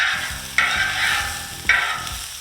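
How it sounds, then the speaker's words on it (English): Onions frying in bacon grease in a pan, a loud close sizzle broken by two sharp stirring scrapes, with no talking. "I'm going to put the onions in the bacon grease."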